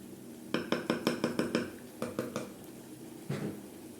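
A metal lid goes onto a cooking pot in a home kitchen during meal prep. A quick run of bright clinks and clanks sounds close and fairly soft, then a few more taps and a final settling knock.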